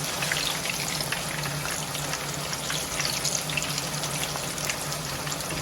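Plantain slices frying in hot oil in a pan, a constant dense crackle and hiss at moderate level, steady throughout with no talking.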